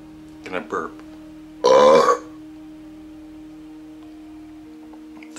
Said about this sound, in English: Gonna burp.